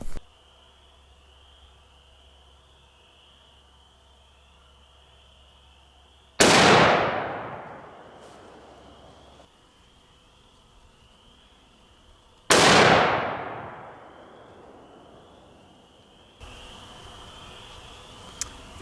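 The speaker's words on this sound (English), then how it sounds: "You might hear a little bit different audio on the gunshots." Two loud .243 Winchester rifle shots, several seconds apart, each a sharp crack followed by a long rolling echo, with insects chirring steadily in between.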